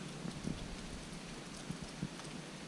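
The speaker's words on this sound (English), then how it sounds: "it is raining" Steady rain falls in a soft, faint, even patter with a few slightly louder drops, and no voices.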